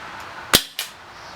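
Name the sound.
Umarex Walther SG9000 CO2 BB shotgun firing three-shot burst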